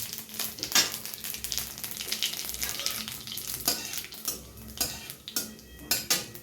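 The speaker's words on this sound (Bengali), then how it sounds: "সাদা তেল গরম করে নিয়েছি, এবার দেবো জিরে ফোড়ন দিয়ে দিলাম 1 চামচ" Cumin seeds tempered in hot white oil sizzle in a pan, a close steady crackle broken by metal spoon clinks and stirring scrapes against the cookware, with no talking.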